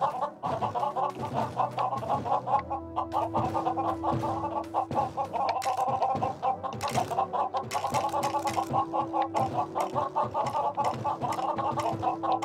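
Chickens clucking in the video game Lego Worlds, a steady stream of rapid, overlapping clucks from several birds, close and continuous, with a held tone running underneath.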